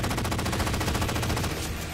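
A SAW machine gun firing in Halo 4: a fast, evenly spaced stream of sharp shots in one continuous close burst lasting under two seconds, then cutting off.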